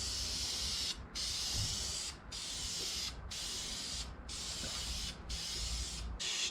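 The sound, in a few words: spraying high-temperature clear coat onto a valve cover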